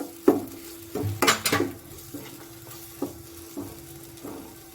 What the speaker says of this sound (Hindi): अब मैं इसमें अपने कटे हुए मशरूम डालूंगी।